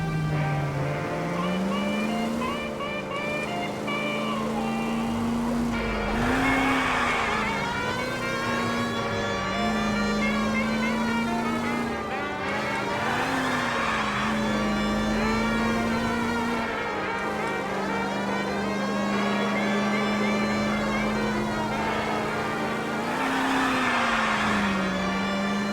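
A car driving in the video game L.A. Noire, a steady engine drone rising and falling through gear changes, with a wailing siren-like tone over it throughout, continuous and fairly loud.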